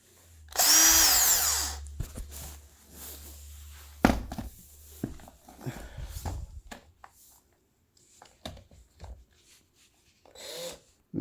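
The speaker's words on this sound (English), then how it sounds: "Now this drill is a little bit old" An old power drill whirs in a loud burst for about a second and a half, followed by clicks, knocks and handling sounds of the tool and chuck, with another brief whir near the end.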